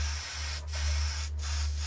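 An airbrush sprays thinned paint onto cardboard in a continuous close hiss, broken by two short pauses, with a low steady hum from the compressor underneath.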